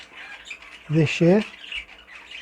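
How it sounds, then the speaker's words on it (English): A pet bird in a breeding shed lets out two short, loud, harsh squawks close by, while someone speaks briefly around them. "a couple of birds that I will definitely try to get back into the breeding cage"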